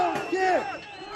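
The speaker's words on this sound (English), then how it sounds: "Old man leave, they chant." A crowd of protesters in Kazakhstan chants against the former leader, a loud mass of voices rising and falling together outdoors with a strong held shout over background hubbub.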